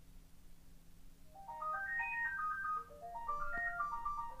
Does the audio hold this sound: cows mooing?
no